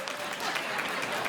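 A comedy-show audience breaks into brief, dense applause, a close wash of clapping from a large crowd that lasts only a moment.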